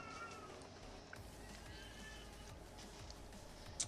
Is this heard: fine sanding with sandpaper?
no